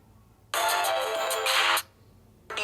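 Ringtone melody played loud through the speaker of a Tecno Camon 18 Premier smartphone, a bright sustained tune lasting over a second, then stopping briefly before starting again.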